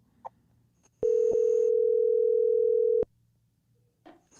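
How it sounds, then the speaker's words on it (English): An outgoing telephone call gives a steady, loud electronic ringback tone for about two seconds. Short clicks and faint noises come just before and after it, and no one speaks. "I'm calling somebody who made a interesting comment, and hopefully she'll answer the phone."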